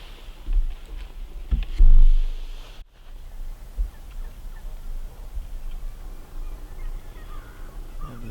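Wild turkeys gobble at sunrise in the Nebraska countryside during rifle season, with scattered distant calls over a low outdoor background and a brief louder burst early on.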